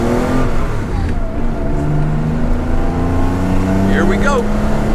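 A car engine revs hard and accelerates with a loud, close, steady roar, while people talk over it.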